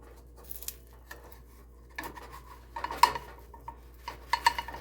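A breakfast burrito is flipped in a hot pan while cooking off the grid, giving scattered clinks and scrapes of a utensil against the pan in short bursts, with a clear clatter near the middle and a few sharp taps at the end.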